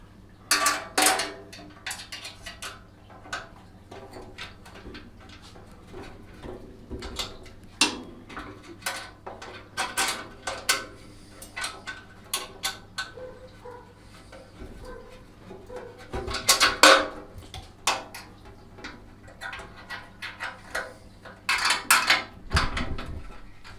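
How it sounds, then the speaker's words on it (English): Metal clinks, taps and scraping clatter of bolts and tools while a 4x6 bandsaw's retracting wheel assembly is bolted back in place, irregular close knocks over a steady low hum, no talking. "basically just bolting this thing back in now"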